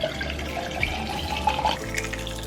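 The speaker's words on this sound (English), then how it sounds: "I'm gonna pour a little bit of it over ice for lunch" Plain sparkling water is poured over ice in a glass, a close continuous gurgling pour with small bright clinks and fizz that settles into a softer hiss near the end.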